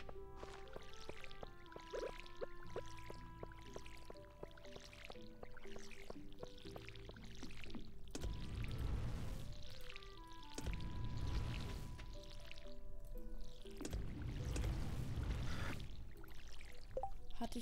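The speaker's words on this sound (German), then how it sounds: "Dann gehen wir halt gießen." Watering crops in the video game Stardew Valley: repeated splashing, pouring bursts from the watering can come in a steady rhythm over light, plinking background music, with no talking.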